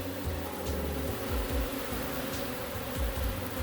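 Honey bees hum in a dense, steady drone from inside a hive built in a box, close and continuous with no voices over it.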